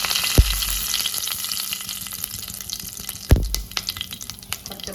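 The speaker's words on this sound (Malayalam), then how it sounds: "അതിനകത്തോട്ട് കടുക് ഇട്ട് കൊടുക്കാം" Mustard seeds hit hot oil in a pan and set off a steady crackling sizzle with scattered sharp pops, broken by two louder thumps as they go in. The sound is close up and no one talks.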